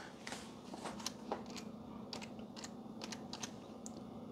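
Fingers type on a computer keyboard, entering a chip name into device programmer software: quick, irregular clicks and taps, close and light over a low electrical hum, with no talking.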